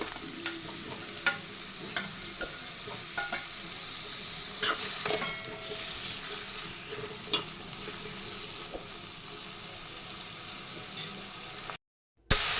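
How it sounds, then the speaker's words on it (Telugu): Tomatoes stirred into fried onions in a pan for paneer gravy, a steady close sizzle and bubbling broken by frequent scraping clicks of the spoon, continuing alone without any voices before ending in a sudden cut. "ఇప్పుడు ఇందులో టమాటోస్ కూడా వేసి కలుపుకోవాలి"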